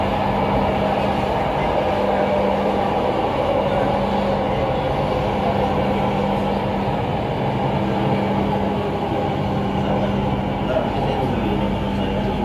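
LRT Jabodebek light rail train running along its elevated track, a steady loud rumble and hum with a constant tonal whine throughout, no pause.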